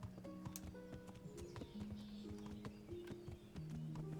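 Horse hooves in the Kingdom Come Deliverance beta, a steady clip-clop of footfalls under looping game music with faint bird calls, no talking.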